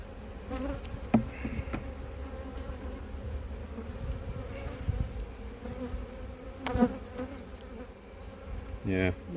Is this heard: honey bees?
yes